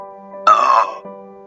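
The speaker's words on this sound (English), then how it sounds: "She turned around and let out a deep, awesome burp." A deep, drawn-out burp, loud and close, rumbles for about half a second over a quiet hum, then fades into a soft closing grunt.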